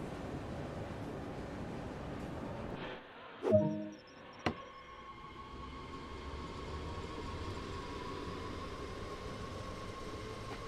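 An S-Bahn Rhein-Ruhr S1 train in Train Sim World pulls away from the platform. A couple of sharp mechanical clunks come first, then a steady, rising electric motor whine and rolling hum as it picks up speed.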